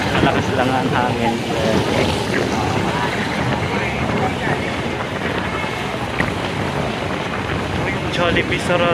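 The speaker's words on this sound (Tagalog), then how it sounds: "Malakas lang ang hangin." Strong wind blusters steadily across a city street in Quiapo after a week of rain, a loud, continuous roar buffeting the microphone, with faint voices and street noise underneath.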